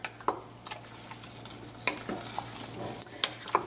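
A spoon stirs chicken curry with potatoes in a pot, making a few distinct scraping strokes against the pot over a soft simmering bubble, moderately close with no talk.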